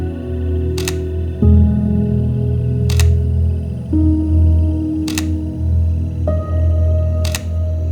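A single-lens reflex camera shutter fires four times at roughly two-second intervals, each a crisp, close click, while photographing the moon at night, with a low steady hum running underneath.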